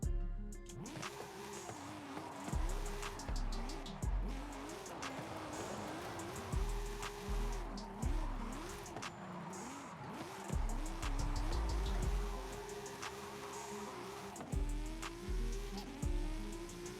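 Engine of a 2021 BMW M3 revving hard in Forza Horizon 5, rising and falling through gear changes while tires squeal in long, repeated drift skids, loud and continuous with no talking.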